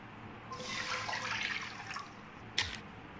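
Water poured into a cup in a home kitchen while making tamarind chutney, a soft splashing stream lasting about two seconds, then a brief sharper splash, faint and close.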